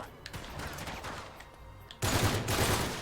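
Gunfire in Uncharted 3: Drake's Deception, scattered muffled shots at first, then a loud, dense burst of rapid automatic fire for the final second.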